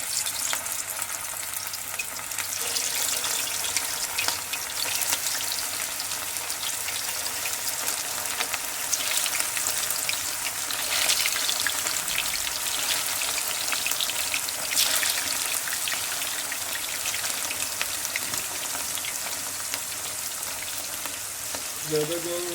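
Hot oil sizzles and crackles in a pan on a stove, a dense, steady frying hiss that goes on for the whole stretch without letting up, with faint voices in the background.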